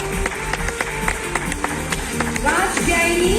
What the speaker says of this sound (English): Dilwalon ki Delhi se जोरदार तालियां होनी चाहिए